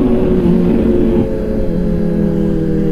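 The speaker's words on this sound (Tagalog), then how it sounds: "Ang ingay kasi ng motor mo." A motorcycle engine runs steadily and loudly throughout on a morning breakfast ride, a continuous close drone with no talk over it.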